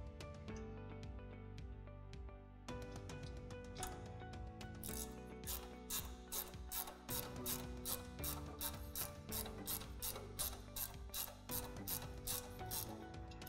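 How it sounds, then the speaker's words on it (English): A 16mm ratchet is cranked to adjust the auger pitch on a LEXION combine harvester, giving a steady run of close, crisp metallic clicks that speed up partway through. "now I can then ratchet system using my 16mm spanner or my 16mm ratchet and ratchet the actual end of the auger up towards myself"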